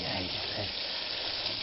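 Pelmeni dumplings fry in a pan with a steady, dense sizzle that stays at an even, fairly loud level throughout. The sound is close up and continuous, with no speech.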